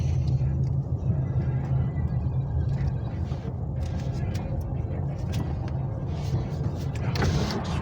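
Road traffic hums and rumbles steadily from inside a car without air conditioning on a hot day, with low engine drone and passing vehicles, and a person talks briefly over it.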